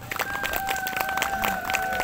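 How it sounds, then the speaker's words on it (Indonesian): An audience at an Indonesian talk event claps together in a steady patter of many hands, moderately close and sustained through the moment. "Mungkin bisa tepuk tangan dulu buat Pak Anto."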